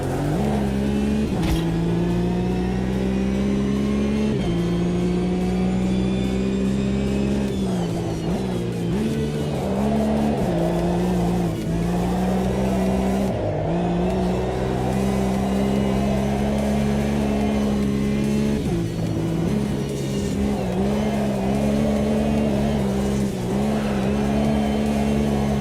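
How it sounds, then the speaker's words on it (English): A race car in a sim racing game, the engine droning loud and steady with repeated pitch swings as it revs and drifts, tyre noise mixed in, continuous throughout and up close. "See if we can drift a little bit."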